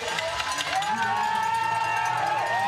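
Spectators line a dark wooded course at the Lenzerheide UCI Mountain Bike World Series downhill semi-final, their loud, close crowd noise and shouting surging briefly with cheers mixed in.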